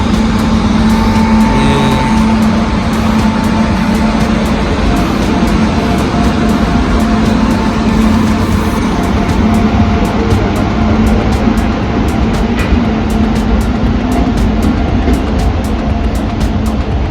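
The Chennai Egmore Express roars along in a loud, unbroken rumble, heard close and steady for the whole stretch with faint higher rattles on top.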